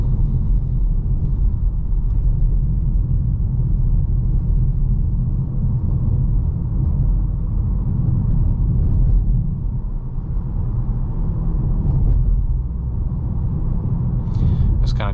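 Inside a 2022 VW Passat Limited Edition on 18-inch wheels, a steady low road and tire rumble fills the cabin while driving, constant and moderate with no one talking.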